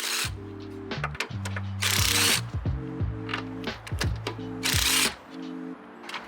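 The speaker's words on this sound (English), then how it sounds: "Use a 13mm socket to loosen the nuts." Ratchet wrench with a 13mm socket working the upper strut nuts on a 2011-2017 Dodge Charger, loud rapid clicking bursts in repeated strokes with short pauses between, close and clear.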